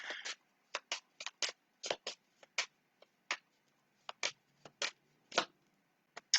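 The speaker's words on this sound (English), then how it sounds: "So Chelsea, I'm gonna shuffle the cards and see what comes through for you" Playing cards shuffled by hand for a one-card reading, giving a series of short, crisp riffling bursts in an uneven rhythm with brief pauses between them, close up and fairly quiet, with no talking.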